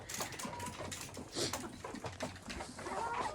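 Several Lohmann chickens cluck and murmur close by in a garden, a busy, continuous chatter of short low calls with a few higher squawks.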